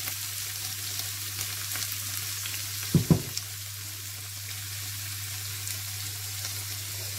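Carrot, onion and pepper frying in hot oil, a steady close sizzle and crackle throughout with a couple of sharp knocks near the middle.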